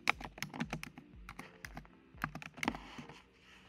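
Keys clatter on a computer keyboard in quick, uneven bursts of close, crisp taps with short pauses between words, as a search term is typed into the Canva design tool; no talking.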